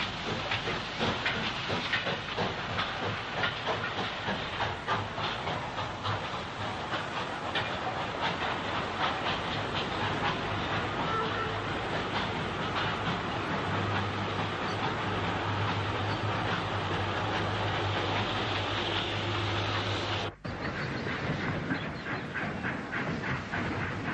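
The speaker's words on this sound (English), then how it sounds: "a BR Standard Class 5 460 is banked by an 8F up the gradient from Ryecroft Junction to Lichfield Road Junction on a mixed freight" A BR Standard Class 5 steam locomotive, banked by an 8F, works a mixed freight up the gradient from Ryecroft Junction to Lichfield Road Junction. It gives steady, loud steam hiss and heavy chuffing with wagon clatter, continuous throughout, with no talk.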